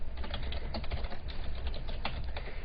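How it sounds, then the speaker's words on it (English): Typing on a computer keyboard as an email subject is entered, a steady run of close, light key clicks with uneven rhythm and a few sharper strikes, over a faint room hum. "I can type my subject"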